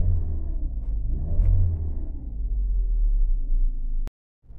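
A car engine with a faulty crankshaft position sensor, pedal pressed but barely revving, a low steady rumble that cuts out abruptly near the end.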